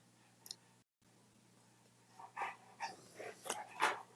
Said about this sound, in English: even the dog is crying over there